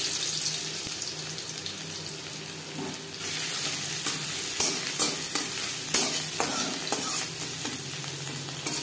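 Dried red chilies fry in mustard oil for a bottle gourd leaf mash, giving a steady loud sizzle throughout, with clinks and scrapes of stirring that grow busier partway through.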